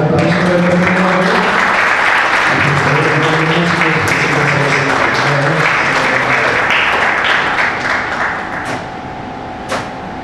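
Loud, dense audience applause for a guitar quartet at a concert, sustained clapping that thins and fades toward the end.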